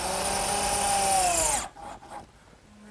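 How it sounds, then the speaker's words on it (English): A power drill drives 1 1/4 inch screws into a wooden cricket table base, a steady whining motor for about a second and a half that cuts off abruptly, followed by a few quiet knocks and handling sounds. "fasten it with some 1 1/4 inch screws"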